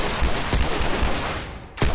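Gunfire in The Last of Us, several sharp shots at roughly half-second intervals over a dense, continuous game-noise background, loud and close.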